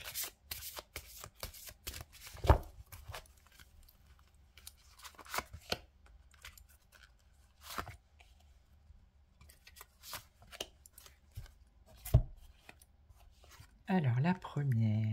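Tarot oracle cards are shuffled and drawn in soft, intermittent riffles and sharp card snaps, quiet and close, with a brief voice speaking near the end.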